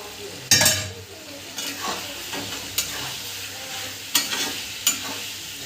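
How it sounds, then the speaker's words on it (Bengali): Chicken with salt, turmeric, chili and cumin powder sautés in a pan, crackling and sizzling while a spatula stirs it. Several sharp scrapes and knocks come through at irregular intervals, close by, with no voices. "আমি মাংসটাকে বেশ কিছুক্ষণ ধরে কষে নিয়েছি"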